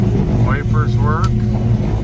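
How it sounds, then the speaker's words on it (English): Steady low rumble of a running 1972 Dodge Challenger engine, idling evenly and close by, with a radio faintly audible and a voice speaking over it. "Good running car."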